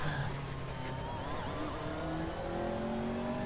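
A McLaren MP4 GT3 race car engine in the Assetto Corsa video game drones steadily, its pitch rising and shifting as the car accelerates, heard at a moderate level with no talk.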